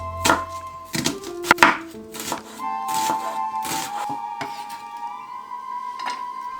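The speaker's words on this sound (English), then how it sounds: "Finely mince the onion." A knife finely mincing onion on a cutting board for Vietnamese turmeric crepe stuffing gives a few sharp, close chopping taps. A steady tonal hum runs beneath.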